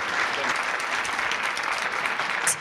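An audience applauds a singer at a Romanian televised award show, a steady, dense wash of clapping that holds at an even level for the full stretch.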